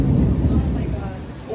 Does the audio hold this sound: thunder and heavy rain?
yes